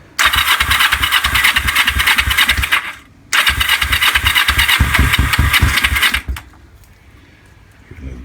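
Bobber motorcycle engine started twice: each start catches into a loud, rapid, uneven thumping run lasting about three seconds before cutting out, with a short pause between runs and near-silence at the end.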